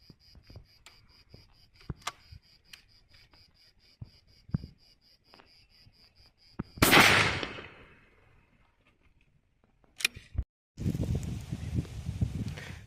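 A F.A.I.R SLX-800 shotgun fires a 32-gram cartridge outdoors: one loud, sharp blast that decays over about a second, set against a steady background of buzzing insects, followed later by a brief crack and a stretch of rustling noise.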